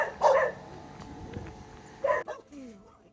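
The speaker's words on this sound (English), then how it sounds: "There are still so many more pens, so many more dogs." At a dog rescue shelter on Zakynthos, dogs give two short bursts of barking and yipping near the start and again later. Quieter stretches and faint voices fall in between.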